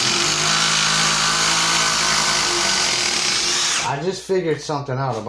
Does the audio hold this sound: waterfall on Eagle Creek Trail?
no